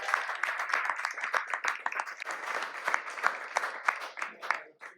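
Audience applause for a team presentation at a summer event in Lisbon, brisk scattered clapping from a modest crowd, moderately quiet and uneven, tapering off near the end.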